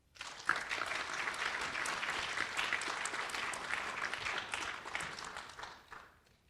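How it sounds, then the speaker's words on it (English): Steady applause from a crowd at a National Honor Society induction ceremony, many hands clapping in a dense wash that holds evenly for several seconds before tapering off at the end; no voices. "Please join me in thanking them with a round of applause."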